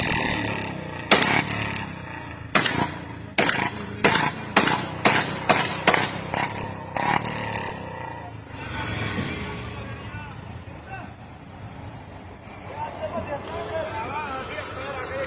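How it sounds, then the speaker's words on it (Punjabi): A Bullet motorcycle started by a Nihang Singh, its engine giving a rapid run of loud, sharp exhaust bursts for several seconds before settling into a rougher, quieter idle, with a crowd's voices chattering around it. "ਹੁਣ ਨਿਹੰਗ ਸਿੰਘ ਨੇ ਮੋਟਰਸਾਈਕਲ ਸਟਾਰਟ ਕਰਿਆ"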